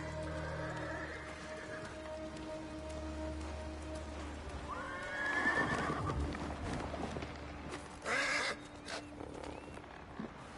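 A horse in the video game Ghost of Tsushima whinnies loudly over steady rain and ambient noise, with a second, shorter neigh moments later.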